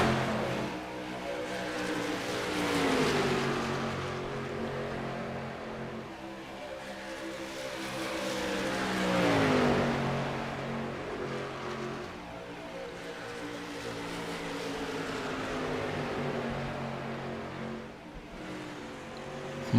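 Race cars roar around the track, engines swelling and fading as they pass, with repeated rising and falling revs in a continuous loud drone.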